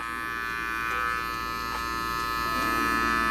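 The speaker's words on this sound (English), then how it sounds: "Starting with the lever again, fully closed. Again, now my clipper tilt is changing." Electric hair clipper cutting a taper fade, a steady close buzzing hum that runs unbroken throughout, with slight shifts in tone as the blade's angle and pressure change.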